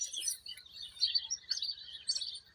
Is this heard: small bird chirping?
yes